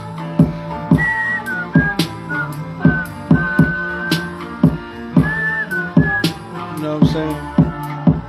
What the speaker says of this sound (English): Think about some whistling too.